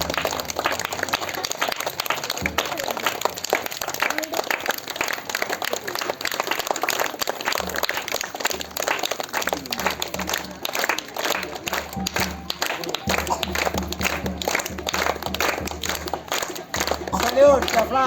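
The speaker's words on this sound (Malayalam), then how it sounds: "കൈയടിച്ചോ." An audience claps at a school annual day flag-hoisting ceremony, a steady, dense applause that runs throughout and mixes with crowd noise and talk.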